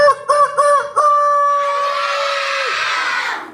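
A person imitates a chicken crowing for a children's guessing game, a few short clucking bursts and then a long drawn-out crow, loud and close, followed by a crowd's murmur.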